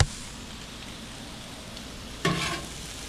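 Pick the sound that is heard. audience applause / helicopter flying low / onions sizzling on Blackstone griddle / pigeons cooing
onions sizzling on Blackstone griddle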